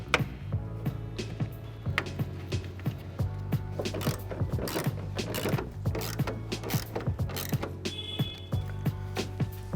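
A ratchet clicks in quick bursts of pawl ticks with pauses between, tightening 8mm bolts on a Ford F-250 LED tail light, close and fairly quiet, no talking.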